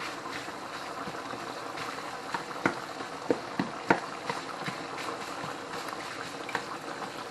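Noodles for spicy mac and cheese boil in a pot, a continuous bubbling churn with scattered louder pops and knocks, close and steady with no talk.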